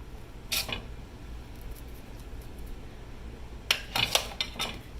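Potatoes are served onto a plate for a Swiss steak meal. Two clusters of ceramic clinks and scrapes sound, one early and one near the end, with quiet room tone between them and no voices.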